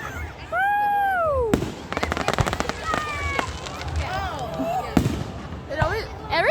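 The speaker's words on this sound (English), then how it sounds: "It always, every time I see fireworks," Fireworks burst in the sky at a show after a Cougars game, with a whistling rise followed by crackling pops and sharp booms, while spectators cheer and talk throughout.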